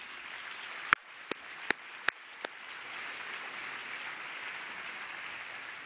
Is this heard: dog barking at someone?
no